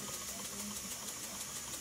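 A small A-frame wobbler steam engine with an overhead crank and a lead flywheel turns slowly at about 40 RPM, giving a faint, steady, rhythmic ticking chuff that repeats evenly and stays quiet throughout.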